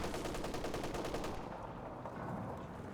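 Two mortar explosions in the video game Company of Heroes 2, a pair of dense, rumbling bangs heard at a distance with a crackling tail that fades after about a second and a half.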